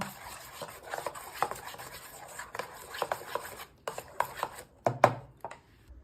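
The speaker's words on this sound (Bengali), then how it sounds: "ডালটা ভালোভাবে ফেটিয়ে নিয়েছি" Lentil batter with baking soda, salt, chili powder and turmeric is beaten by hand in a bowl, making quick, rhythmic scraping and slapping strokes close up, with no talking.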